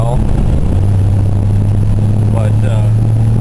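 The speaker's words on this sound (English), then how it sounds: "I got a pretty loud exhaust." A car with a loud aftermarket exhaust idles close by, a steady deep rumble with a constant low drone, loud and unbroken throughout.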